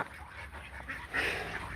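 A duck quacks faintly on a pond, giving a few soft, short calls against quiet outdoor background noise.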